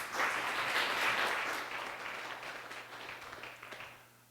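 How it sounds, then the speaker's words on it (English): An audience applauds at an arts salon, with a steady wash of many hands that is loudest at first and then slowly thins and fades. "I'm not used to getting applause, so I usually don't pause"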